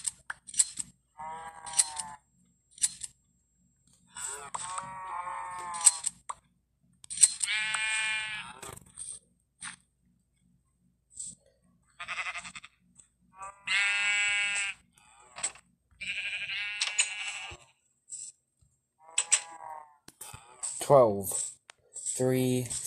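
Minecraft sheep bleat repeatedly while being sheared on a sheep farm, with crisp snipping and short bleats in scattered bursts across the clip and a person talking over parts of it.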